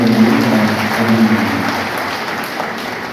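A large crowd at a public event applauds loudly, a dense continuous wash of clapping that holds steady and then slowly fades, with faint voices underneath.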